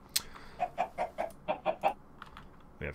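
Chicken clucking in the Minecraft video game, a run of about eight short, evenly spaced clucks at moderate loudness with no talk, followed by a brief separate sound at the end.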